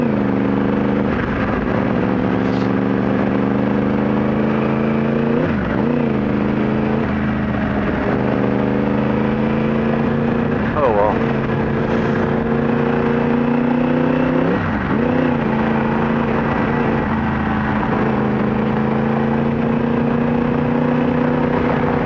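Motorcycle engine on a street, a close, continuous droning hum with steady tonal harmonics, swelling in several revs every few seconds, loud and unbroken throughout with no voices.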